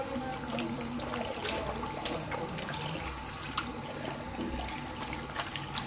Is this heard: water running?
yes